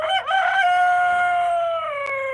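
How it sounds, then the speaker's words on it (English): Chocolate silver-laced Orpington hens, about four years old, give one loud, drawn-out, tonal call on a farm, close by and clear, with no talking. "Here's the oldest breed of chicken. We have the chocolate silver-laced Orpingtons."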